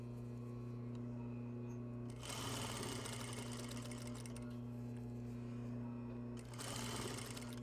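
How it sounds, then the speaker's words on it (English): A sewing machine runs in bursts while stitching a basic apparel seam, a fast whirring rattle starting and stopping twice over a steady low hum, close and alone. "I set up my taut sewing again."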